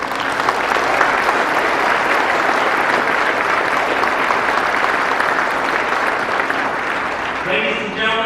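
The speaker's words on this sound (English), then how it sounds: "I'd ask you to please join me in a round of applause" A large crowd at a Marine Corps birthday ceremony applauds loudly and continuously, a thick, sustained roar of clapping that fades near the end as a voice begins over it.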